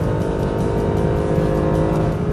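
A Mercedes SLS AMG Black Series engine roars loud and close at high revs on a flat race circuit, a steady sustained howl with a rapid pulsing beat through the short burst, no talk.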